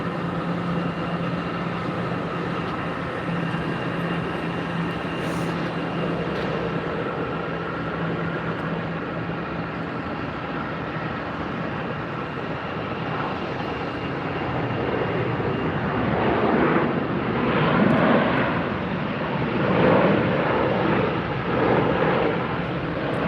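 An American Airlines Boeing 737 landing at Tampa airport, a broad distant jet roar that swells toward the end as the thrust reversers engage, heard from outside with no talk.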